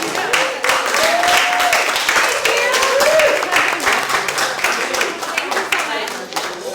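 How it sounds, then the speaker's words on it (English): An audience round of applause at a gathering in Kauai, Hawaii, steady and fairly close with voices calling out over the clapping before it thins toward the end. "let's have a round of applause for Hollan"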